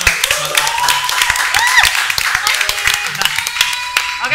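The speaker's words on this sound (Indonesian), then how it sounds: "Tepuk tangan dulu dong Mas" Several people clap in quick, uneven bursts, close by, with chatter and laughter mixed in throughout.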